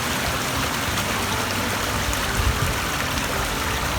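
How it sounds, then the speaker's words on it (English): Stream water pours and trickles steadily into a cheap fabric bag beside a Scottish hiking trail, a continuous close rushing babble with a slight surge midway. "Fill that bag up with water"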